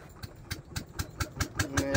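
Small boat engine on a river crossing of the Atrai, chugging with evenly spaced sharp pulses roughly four times a second, close and moderately loud, with a faint tonal whine near the end.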